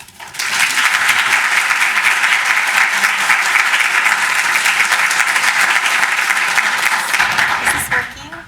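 Audience at the 2009 Jerome Hall Law Lecture bursting into loud, sustained applause to welcome the lecturer, an even wash of clapping lasting about seven seconds before tapering off.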